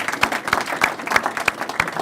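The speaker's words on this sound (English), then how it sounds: "Let's give him a round of applause." Audience at a chamber of commerce budget event claps for a longtime member, a burst of scattered hand claps with sharp individual smacks, moderately loud and close, no talk over it.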